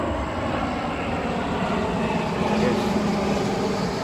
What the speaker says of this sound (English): Here's the plane I was telling you about.